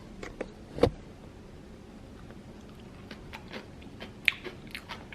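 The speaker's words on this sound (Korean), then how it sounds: "아깐 진짜 맛없었는데 한번 먹어보도록 하겠습니다" Someone bites into and chews kimchi close to the microphone, with a few crisp crunches and soft wet chewing sounds over a quiet room.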